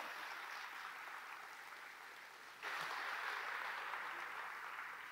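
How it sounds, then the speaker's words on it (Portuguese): A church congregation applauds during a worship service, a faint, steady wash of clapping that swells slightly louder partway through. "Aplauda o Senhor."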